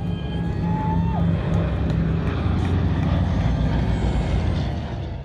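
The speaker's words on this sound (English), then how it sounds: "The Boeing B-17 Flying Fortress with the P-47 Thunderbolt." A Boeing B-17 Flying Fortress flies with a P-47 Thunderbolt at an airshow, their piston engines droning loud and close with a slight falling pitch as they pass, a faint crowd murmuring beneath.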